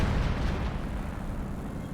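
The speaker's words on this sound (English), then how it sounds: "Panzer Commander artillery." Panzer Commander artillery fire in the video game Company of Heroes 2, a heavy continuous rumble of explosive blasts filling the whole short stretch with no talking.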